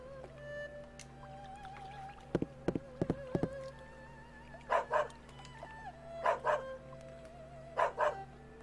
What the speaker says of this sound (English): He really likes barking at people.